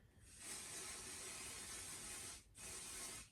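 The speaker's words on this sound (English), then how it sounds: "So then what I do is you just spray a little bit around here." A steady aerosol spray of temporary adhesive onto fabric hisses for about two seconds, pauses briefly, then sprays again in a short burst.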